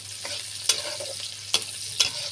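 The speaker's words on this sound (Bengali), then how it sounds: "সুন্দর করে পেঁয়াজটাকে একটু ভাজা ভাজা করে নিব" Onion and garlic frying in a pan for a vegetarian stir-fry of taro stolons, a steady broadband sizzle with three sharp clinks of a spatula stirring against the pan.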